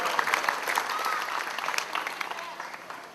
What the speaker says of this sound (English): How about a round of applause for America?